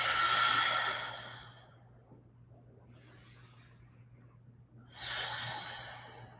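Deep breathing in a yoga pose: a slow, close inhale and exhale, a quiet pause, then another long breath beginning, all soft and steady with no talk.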